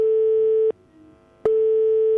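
Telephone tone after a call is hung up: a steady, clear electronic tone that cuts off for under a second, then resumes just as loudly, with no voices.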